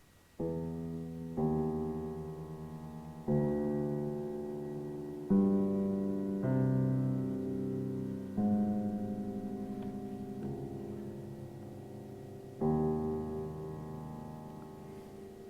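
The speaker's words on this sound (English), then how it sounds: "A longer phrase would maybe sound something like this." A slow sequence of sustained synthetic tones generated from protein data, each new note entering with a soft attack and gently fading, forming a calm, unhurried melodic line.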